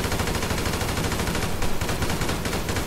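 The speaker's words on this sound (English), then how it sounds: "Shots." Rapid automatic gunfire in GTA V, dense continuous bursts of shots filling the whole stretch, loud and close with no pauses.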